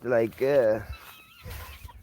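A farm chicken gives two drawn-out, rising clucks close by, followed by softer quieter clucking and faint rustling.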